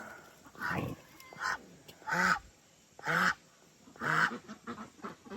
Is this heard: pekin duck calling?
yes